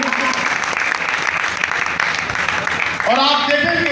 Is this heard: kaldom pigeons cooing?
no